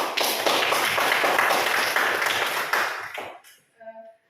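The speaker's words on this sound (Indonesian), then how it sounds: "tepuk tangan untuk kelompok." Classroom of students clapping for a group after its presentation in a religious studies lesson, a loud burst of many hands that cuts off after about three seconds, followed by a brief tone.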